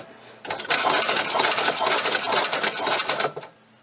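A China-made leather shoe patcher sewing machine runs backwards through two layers, giving a close, loud, rapid mechanical clatter for about three seconds, starting and stopping abruptly.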